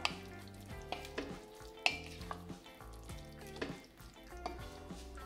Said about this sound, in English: Quick stir.